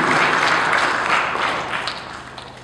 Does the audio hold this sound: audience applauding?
yes